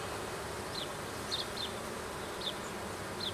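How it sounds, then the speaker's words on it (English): Bees on a hive frame buzz softly over a steady low hum, with a few individual insects droning briefly louder as they pass close. "Has a few bees on it."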